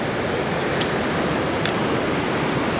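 Water rushing fast beneath a stone on a mountain trail near a bridge in the Har Ki Dun valley, a steady loud broadband roar like surf that continues unbroken throughout, with no talking.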